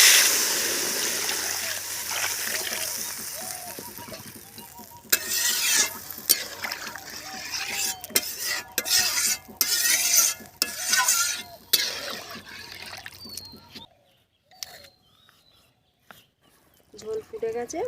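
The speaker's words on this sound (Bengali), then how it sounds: "এখন জল ঢেলে দেবো।" Water is poured into frying spices, ground mustard among them, for a fish curry, then stirred with a spoon; a sizzling, splashing burst starts partway through, followed by scraping stirs and bubbling, with a voice talking over much of it.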